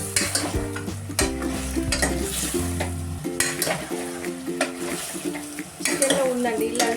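Fenugreek seeds fry in hot oil in a pan for green chicken bagara rice, a low sizzle under repeated clattering scrapes of a spoon stirring against the metal.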